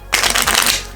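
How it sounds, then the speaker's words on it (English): A deck of playing cards being shuffled for a magic trick: a quick burst of riffling flutter close by, starting abruptly and running for under a second before fading. "a little shuffle."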